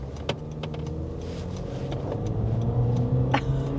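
A 2023 Honda HR-V small SUV pulls away from a stop sign, its engine droning and steadily building in loudness and pitch as it accelerates, heard from inside the cabin.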